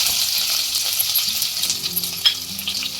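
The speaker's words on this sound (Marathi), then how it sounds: "सर्व खडे मसाले ॲड केल्यानंतर आपण लसूण ॲड करणार आहोत." Garlic fries with whole spices in hot oil for chicken biryani, a bright, close, continuous sizzle with light stirring and a small metallic clink near the end, no voices.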